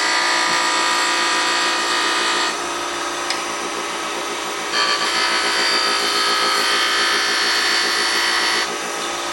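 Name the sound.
wood lathe gouge cutting a wooden box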